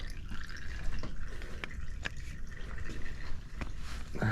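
Engine oil drains from a 1975 Honda CB750 motorcycle into a container, a soft, close trickle with small irregular drips and splashes against quiet background.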